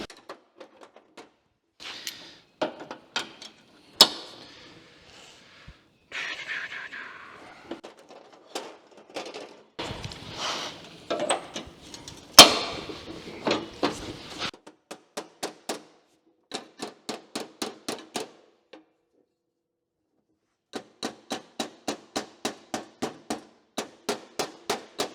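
A rusty car door panel is tapped back into place with a hammer: many sharp, close metallic taps, some in quick even runs, others scattered, with pauses of silence between bursts.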